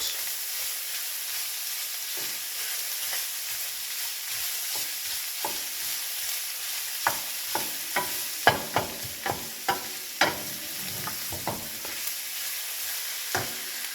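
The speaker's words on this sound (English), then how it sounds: "Mix carefully and let the onions sweat." Onions fry and sweat in a pan, a soft continuous sizzle broken by repeated sharp scraping knocks of a spoon stirring, close by and without any talk.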